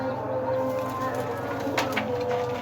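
Pigeons cooing nearby, low soft repeated coos over a steady background hum.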